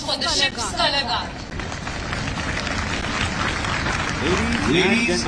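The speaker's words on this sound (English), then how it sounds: "a big round of applause for the ship's color guard" A naval audience applauds the ship's color guard at a commissioning ceremony for INS Visakhapatnam, sustained clapping filling the space while a voice talks over it near the end.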